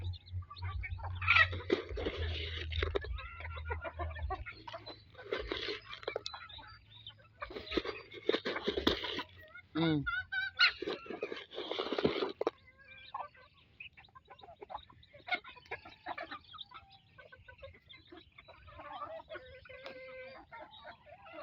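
Native chickens cluck and call in short irregular bursts nearby, with quieter stretches in between and some faint background voices.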